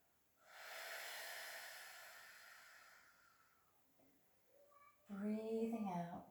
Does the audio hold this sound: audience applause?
no